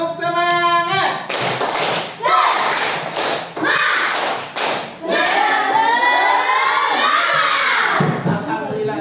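A school class chanting together while doing a rhythmic clap, loud group voices with bursts of sharp claps and thumps in a patterned beat, filling a classroom.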